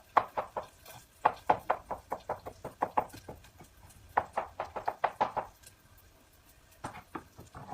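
A knife chopping garlic into thin slices on a cutting board, rapid bursts of sharp close knocks in quick rhythmic runs with short pauses between.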